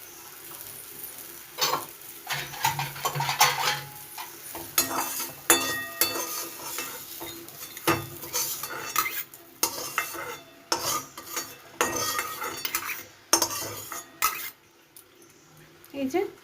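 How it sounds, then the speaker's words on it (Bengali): Bitter gourd fries in a kadai, with repeated clattering stirs of a metal utensil against the pan over a soft, continuous sizzle, close by and rhythmic but irregular. "কড়াই যেটুকু ছিল সেটুকুতেই কিন্তু আমার উচ্ছেটা ভাজা হয়ে গেল"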